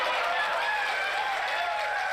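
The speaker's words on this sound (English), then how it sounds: "the sycophant crowd cheers" A crowd at a Trump town hall cheers and applauds, a steady dense roar of voices and clapping that continues throughout at a constant loud level.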